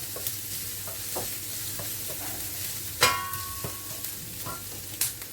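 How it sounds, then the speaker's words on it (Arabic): Chopped onions fry in a pan with a steady crackling sizzle, broken by several scraping stirs and one sharp spoon knock near the middle, close and fairly loud. "نكمل نبلي البصل تاعي ونعاود الخيار"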